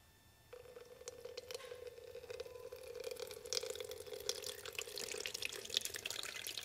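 Water pours through a thermostat removed from a Passat CC 2.0 TDI engine during a flow test, a steady close trickle and splash that starts abruptly and keeps running under a faint tonal hum.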